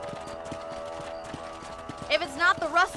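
Rhythmic horse hooves clip-clop steadily through a Red Dead Redemption game scene on PS3, with a horse's whinny and music rising near the end.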